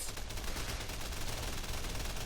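Machine gun fire from the video game Men of War, a dense, continuous rattle of rapid bursts holding steady and loud for a couple of seconds with no voices.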